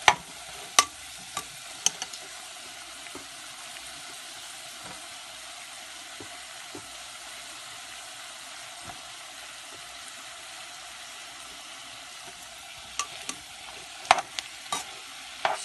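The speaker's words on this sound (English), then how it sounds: "So what I'm going to do now is just add in the dry mashed potatoes." Dry mashed potatoes are stirred into a vegetable filling in a pan for a Kolkata-style vegetable chop, with a faint, steady sizzle and occasional soft scrapes and clicks of the utensil.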